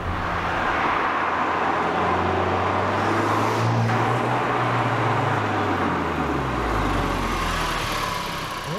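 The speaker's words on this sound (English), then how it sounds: "when you're sitting here idling, it's extremely quiet" Honda Civic Type R with triple exhaust idling, a steady, quiet low engine hum held close by with a slight pitch shift midway and no talking.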